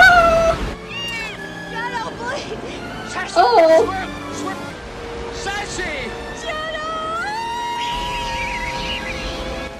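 A cat meows and cries in the film Homeward Bound during a river scene, with rising wails over rushing water, while people talk and react loudly over it.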